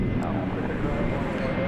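A departing airliner, flight 2402 to Seattle, rolls out at DFW Airport at night, making a steady broad engine roar that holds level throughout while voices talk over it.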